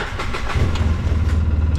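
A Polaris RZR 800 S engine cranks and catches, its rapid chugging settling into a loud, close, rumbling run.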